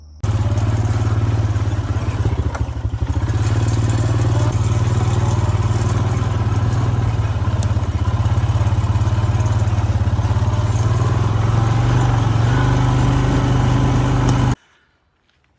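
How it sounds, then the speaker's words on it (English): A vehicle engine drones steadily and loudly from inside while driving up a small side road into a hollow, with rattling clatter throughout and no talk, ending abruptly. "So I'm gonna drive on up here and show y'all."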